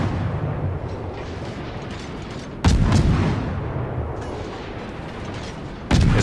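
Naval gunfire in World of Warships: a heavy, rumbling bed of battle noise broken by two loud, sharp cannon blasts, one midway and another near the end, each booming and slowly fading.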